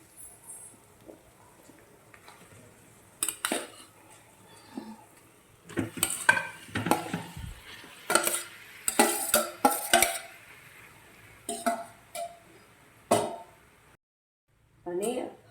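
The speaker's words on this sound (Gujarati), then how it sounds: "હવે આપણે આને બરાબર મિક્સ કરી દઈશું" Boiled potatoes and finely chopped coriander being mixed in a pan, with intermittent scraping and clattering of a spoon against metal, moderately close, under a person talking.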